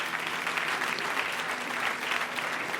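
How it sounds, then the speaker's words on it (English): Audience applause at an evening Ramadan event, a brief, even burst of many hands clapping at moderate distance, with no talk over it. "On peut l'applaudir pour ça."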